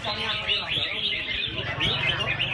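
Red-whiskered bulbul singing at a bird song contest, repeated bright chirps and warbling phrases over a busy crowd murmur with some background voices.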